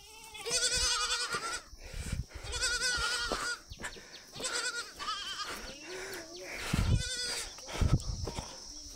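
Goats bleat repeatedly and loudly, close by, while being driven along a village path, their overlapping calls rising and falling throughout with occasional voices of the herder among them.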